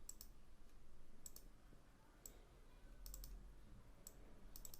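Computer mouse double-clicking at a desk, several quick pairs of crisp clicks spaced over a quiet, faintly humming room.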